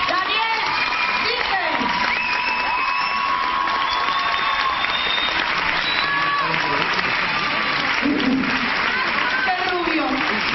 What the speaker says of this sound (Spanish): Le recibimos con un fuerte aplauso, como él se merece.